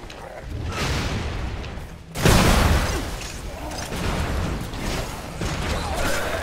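A loud explosion bursts about two seconds in, followed by rumbling, clanking effects and a few smaller bangs under a busy background in the video game Shadow Warrior 2.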